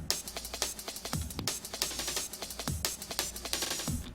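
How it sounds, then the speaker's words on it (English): Drum loop run through reverb with a heavily compressed, gated tail, producing dense rhythmic hits that pump and bounce back between beats, loud and continuous with no talking. "So you can hear the bounce back, the gating on the reverb there if you throw the compressor on afterwards."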